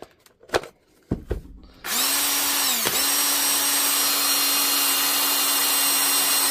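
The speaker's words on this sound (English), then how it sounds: "I'll try this 8 amp on the drill" A few clicks and knocks, then a cordless drill on a revived 8 amp battery whirs up and runs steadily and loudly, with a brief dip in pitch partway through.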